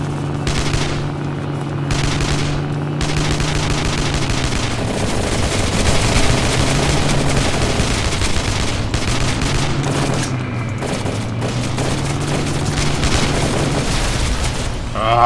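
Gunfire in the video game Badland Bandits: rapid, continuous shots and booms over a steady low vehicle engine drone, loud and sustained throughout.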